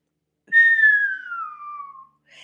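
A single human whistle slides smoothly downward from a high pitch over about a second and a half, clear and alone, mimicking air squeezing through a narrowed airway, with a faint breathy sound at the end.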